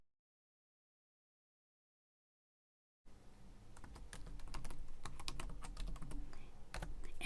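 Computer keyboard typing a username: silence for three seconds, then a run of quick, uneven key clicks, close and fairly faint.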